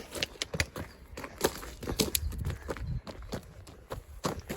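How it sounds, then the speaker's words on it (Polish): A large horse gallops with a rider, its hooves striking the ground in quick, uneven rhythmic thuds close by, with scattered rustling and no clear talking. "więc teraz sobie ruszę galopem"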